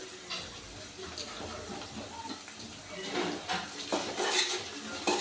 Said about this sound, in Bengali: পেঁয়াজের সাথে রসুনটাকে আমি হালকা ভেজে নেব।